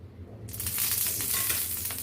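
Oil hits a hot tawa for moringa leaf chapati, bursting into a sudden loud, close sizzle after a quiet half-second and holding steady to the end.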